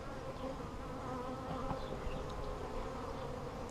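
Honey bees buzz at an open top bar hive during a spring split, a dense, continuous close-up drone that holds steady throughout.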